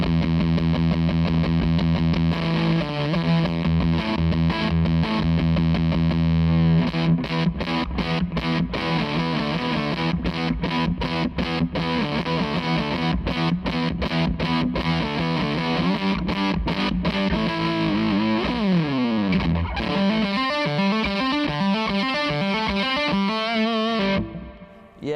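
Electric guitar played through a Zander Circuitry Cafetiere V3 distortion pedal, heavily distorted and sustained, with chugging palm-muted riffs, choppy stabs and a sliding bend near the end, loud and continuous with no talk.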